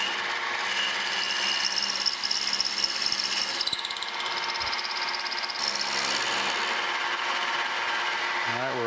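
A machine cutting new slide keys for the fence of a Wadkin table saw, holding a steady, continuous mechanical whine and hum throughout with no talking.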